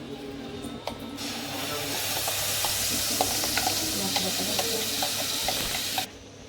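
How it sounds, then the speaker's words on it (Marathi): A spoon stirs mango malai barfi mixture in a pan over low heat, steady sizzling hiss with soft scraping clicks repeating for several seconds before stopping abruptly, no voices heard. "हे बघा, आपण आता हे टाकलंय ना मिश्रण याच्यात, असं सतत ढवळत राहायचं, बारीक गॅसवर"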